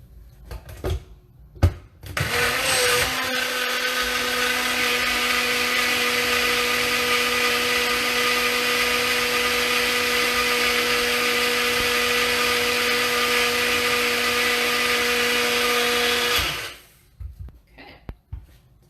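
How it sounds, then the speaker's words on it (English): A countertop blender whirs loudly at a steady high pitch for about fourteen seconds while blending wild plum sauce, starting and stopping abruptly, with a few faint clicks and handling noises before and after. "this kind of blender adds a few air bubbles"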